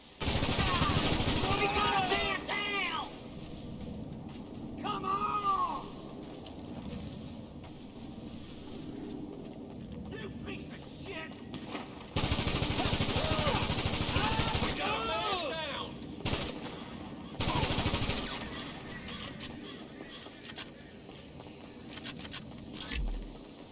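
Bursts of gunfire in GTA V, rapid shots that come and go across the stretch, mixed with other game noise and people talking.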